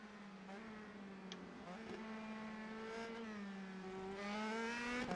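Race cars in a video game's Italian Grand Prix hold a steady, loud engine drone that climbs and falls through the gears, with a brief squeal and the pitch rising toward the end.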